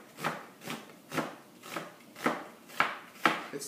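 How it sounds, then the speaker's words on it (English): A knife chops an onion on a board for pico de gallo in seven even, evenly spaced strokes, each a crisp close thunk, with no talking. "So now you have nice chopped onions"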